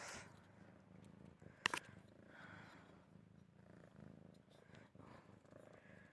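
A kitten purrs steadily and softly close by, a low continuous rumble running the whole time, with a brief sharp rustle or click partway through during a comic book unboxing.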